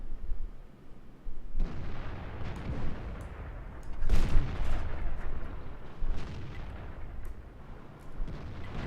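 Heavy tank cannon shots boom in a T-54 tank video game, with a loud blast near the start, a bigger one midway and further rumbling fire and impacts throughout, closely spaced and echoing.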